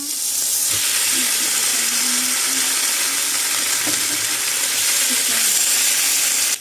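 Garlic sizzling as it is stir-fried for a chicken dish, a steady, close, bright hiss of frying that holds evenly throughout with faint utensil touches, no one talking.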